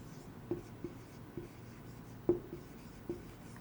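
Pen on paper during an accounting tutorial, quiet scratchy strokes with a handful of soft taps spaced unevenly over a few seconds, no talking.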